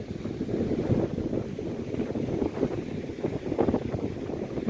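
Strong northwest wind buffets the microphone at an ocean shore near Honeymoon Island, a continuous low roaring rumble with gusty surges and possible surf beneath, loud and steady throughout with no talking.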